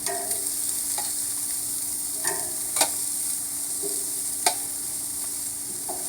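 Vegetables brushed with olive oil char on a hot grill, giving a constant bright hiss with a few sharp pops and clicks scattered through it.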